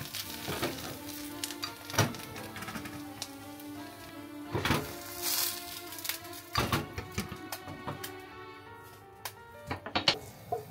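Thin onion slices fry in oil in a pan, a quiet, steady sizzle broken by occasional sharp clinks and scrapes from the utensils.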